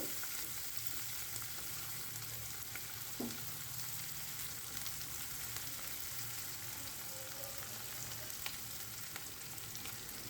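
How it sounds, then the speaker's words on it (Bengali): Onions and garlic fry over medium heat in a pan for a yardlong bean mash, giving a steady, close sizzle and crackle throughout with no talking. "চুলার জালটা মিডিয়ামে রেখে পেঁয়াজ আর রসুনগুলো ভেজে নিতে হবে"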